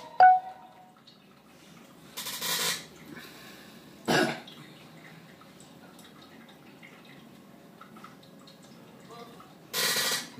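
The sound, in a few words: people coughing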